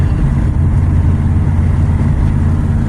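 Farm truck engine with a freshly adjusted carburetor pulling hard as the truck gains speed on the road, a loud, steady low rumble running without pause and with no talking.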